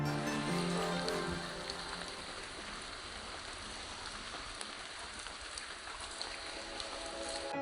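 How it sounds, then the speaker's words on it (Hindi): Rain pours steadily in a forested village area, a dense, even hiss of drops on surfaces that stays constant and fairly close, with no talk over it. "अभी मैं जा रहा हूँ घर पे, क्योंकि बारिश बढ़ रही है"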